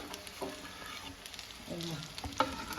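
Poha (flattened rice) snack with grated coconut being stirred in a silver pan, a spoon scraping and clinking against the metal over a faint sizzle, with a few sharper knocks near the end.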